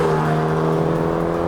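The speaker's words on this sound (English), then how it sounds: "That engine sounds good" A 2020 Mercedes-AMG CLA 35 engine drones under load while driving, a steady, loud hum with a strong tone and no clear rise in pitch.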